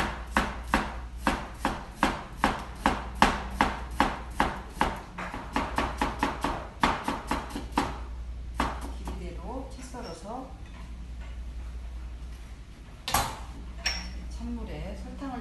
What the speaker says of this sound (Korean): 배는 길이 한 4cm 정도 이렇게 맞춰주시고요. 채 썰어서 준비를 하겠습니다.